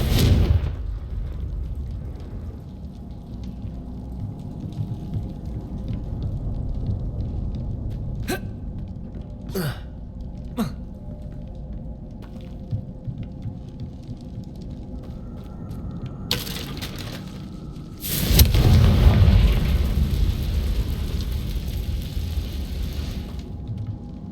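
Confringo fire spells burst in the Hogwarts Legacy video game, giving several short sharp cracks midway and then a loud, sustained roaring blast that fades out at the end.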